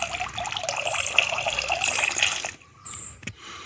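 A micronutrient solution for adenium plants is poured into a container of water, a close liquid trickle and splash running steadily before stopping abruptly, followed by a short second pour and a faint clink.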